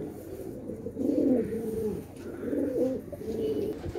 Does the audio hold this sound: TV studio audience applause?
no